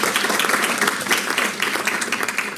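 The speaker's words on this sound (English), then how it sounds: "Ну, давайте поаплодируем участникам панели за их" An audience applauds panelists at the close of a panel session, with dense, steady clapping filling the room throughout and no voice standing out above it.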